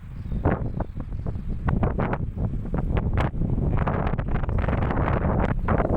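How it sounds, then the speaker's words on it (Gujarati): Steady wind blows hard across the microphone, a continuous low rumble punctuated by sharper gusts and flutters throughout. "મસ્ત મજાનો વાયરો આવે છે બહુ પવન કાઢે છે"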